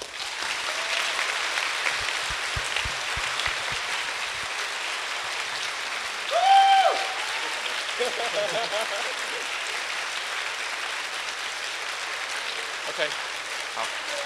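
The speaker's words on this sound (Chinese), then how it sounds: "请大家给工作人员一个掌声" An audience at a COSCUP 2011 closing ceremony applauds the staff, sustained crowd clapping at moderate level for the whole stretch, with a brief louder swell partway through and scattered voices underneath.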